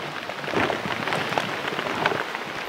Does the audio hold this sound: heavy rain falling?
yes